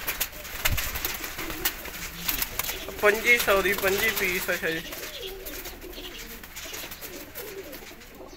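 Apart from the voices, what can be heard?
pigeons cooing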